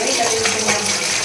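Water splashes and gushes steadily as meat for curry is washed in a pot, with a continuous close sloshing wash of liquid and no clear speech.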